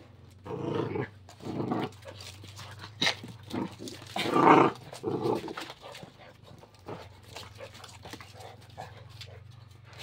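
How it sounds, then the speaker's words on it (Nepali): Dogs fight at home, giving loud snarling growls and yelping bursts that rise and fall over about ten seconds against a steady low hum. "डग फाइट"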